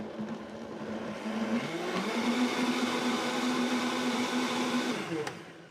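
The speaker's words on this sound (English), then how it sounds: "just gonna blend it all together" An electric blender whirs through a kalbi marinade with toasted sesame oil, a steady loud motor drone with a slight pitch rise before it spins down and stops near the end.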